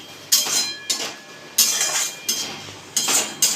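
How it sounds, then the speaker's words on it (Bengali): A pot lid being lifted and chicken stirred in an oil-free chicken dish: a series of sharp metallic clinks and scrapes of a spoon against the pot, spaced irregularly, close and fairly loud. "ঢাকা খুলে আবার নেড়ে দিচ্ছি"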